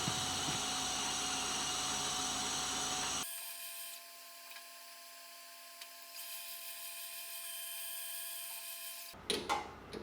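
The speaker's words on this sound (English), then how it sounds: "so we're just going to hit it with a boring bar real quick" A boring bar cuts out a hole in a checkering cradle part with a steady, high-pitched machining whine, briefly changing tone before ending with a few clunks.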